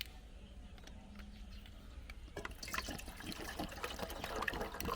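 A whole bottle of water pours into a Firemaple Petrel ramen pot, starting as faint trickling and then turning into a steady, louder splashing fill that builds toward the end.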